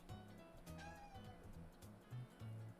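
A pet cat meows several times close by, short nasal calls repeating over a few seconds against quiet room tone, heard indoors at home just before a live stream.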